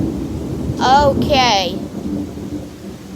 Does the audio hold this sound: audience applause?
no